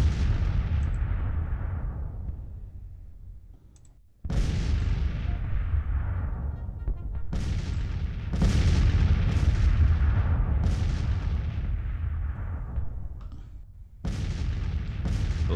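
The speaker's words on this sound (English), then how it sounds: "Now all my artillery's firing." Civil War cannon batteries in the strategy game Grand Tactician fire repeated heavy artillery booms. Each deep blast is followed by a long rolling decay, with about five distinct volleys spaced a few seconds apart and no talk.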